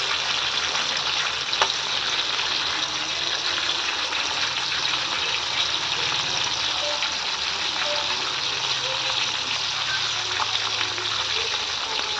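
Fish pieces fry in a pan, giving a steady, loud sizzle that holds without a break, with faint talk buried underneath.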